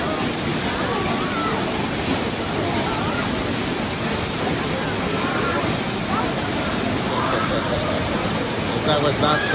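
Water crashing forcefully at a mountain waterfall, a loud, continuous roaring rush close by that holds steady throughout, with faint voices mixed into the spray.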